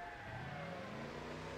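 A small car's engine revs in a video game, a steady droning whine with rising pitch sweeps, faint and continuous without talk.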